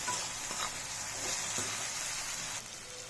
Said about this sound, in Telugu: ఇప్పుడు మనం వేయించుకున్న గోబీ ముక్కలు కూడా వేసుకుని సోయా సాస్ అంతా ముక్కలకి పట్టేలాగా కలుపుకోవాలి